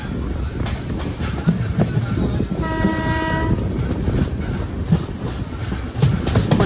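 Vasco Express passenger train running near Kadur on the Bengaluru to Goa route, a loud, close, continuous rumble and clatter of wheels on track with a sustained horn blast in the middle.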